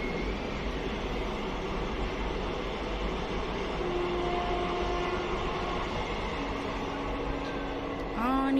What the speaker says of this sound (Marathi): आता 2 in 1 ट्रेन इकडून पण आलेले आहे आणि तिकडून पण चाललेले आहे.